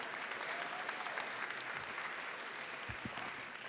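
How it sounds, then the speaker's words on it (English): An audience at a university convocation applauds a keynote speaker, a dense, steady wash of clapping that fills the hall without a break. "Another round of applause"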